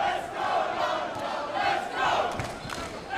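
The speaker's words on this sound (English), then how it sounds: "you can hear the crowd, a lot of chanting for the home favourite" A crowd at a Kings of Kombat kickboxing event chants for the home favourite, a distant, rhythmic swell of massed voices rising and falling in waves under the hall's ambience.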